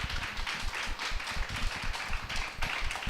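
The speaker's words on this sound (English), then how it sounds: "Let's welcome her with a big round of applause." A conference audience applauds to welcome a speaker onto the stage at a healthcare innovation event, dense, steady clapping from many hands, moderately quiet, continuing without a break.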